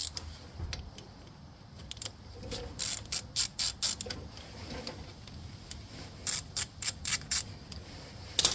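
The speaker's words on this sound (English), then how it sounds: "we have to take the slider pin bolts off, which is this one and this one, and it's a 14 millimeter." A ratchet clicks in quick bursts while loosening rusty 14 mm brake caliper slider pin bolts on a Toyota RAV4, close and crisp, with short pauses between strokes.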